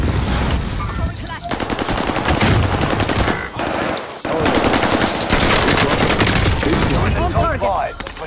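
Sustained automatic gunfire in a video game firefight on a new map, loud and close, with long rapid bursts of shots broken by brief pauses, alongside a little voice chatter.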